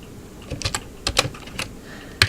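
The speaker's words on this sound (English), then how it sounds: "So you basically type in SCP," A command is typed on a computer keyboard: a handful of crisp key clicks in irregular bursts, close and fairly clear over a quiet background, with no talking.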